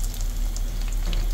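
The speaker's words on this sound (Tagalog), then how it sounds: "Prito lang natin." Fish cake fries in hot oil with a dense, even sizzle and scattered small pops across a brief moment, heard up close with no talk.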